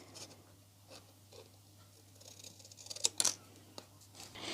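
Scissors snip out a small handmade paper craft sign for fall decor, a few soft close cuts clustered together and then scattered, quiet against a steady low hum.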